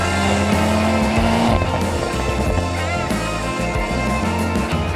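A BMW Z4 M40i launches under launch control, the engine roaring loud and continuous with rising gear pulls and a brief shift break, heard alone without talk.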